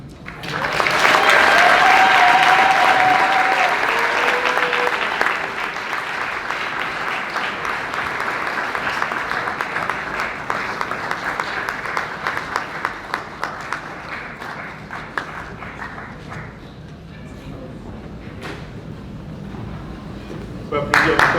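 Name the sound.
wedding guests applauding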